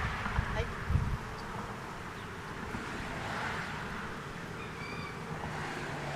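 Honeybees fan at the entrance of a hive, a steady soft buzzing hum heard close up outdoors, with light wind noise and a couple of brief bumps near the start.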